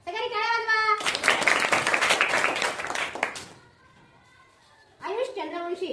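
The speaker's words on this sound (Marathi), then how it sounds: "सगळ्यांनी टाळ्या वाजवा" Children clap in a burst of applause for a prize winner, lasting a few seconds amid a voice speaking before and after.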